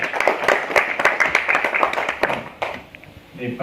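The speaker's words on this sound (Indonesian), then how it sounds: "Saya boleh tepuk tangan buat Untirta Press." An audience at a university anniversary gathering claps in a quick burst of scattered hand claps, fairly close and lively, tapering off toward the end as a voice talks over and after it.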